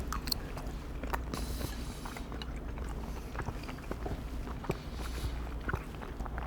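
Someone eating a shrimp, rice and homemade teriyaki sauce bowl with a fork, producing close, steady chewing and biting with small scrapes and clinks spread across the moment, no talking.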